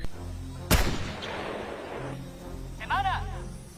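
A single loud, sharp gunshot cracks out in the action film Echo 3 and fades into a rumbling tail, followed by a short rising whine and faint background movement.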